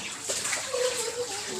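Water gushes in a steady splashing stream as it is poured over a child during a swim, close and continuous, with a brief voice faintly underneath.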